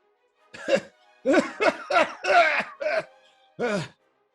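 A voice imitates a character hacking and coughing in a tabletop Star Wars role-play game, with a quick series of close, rough coughs followed by one more after a short pause.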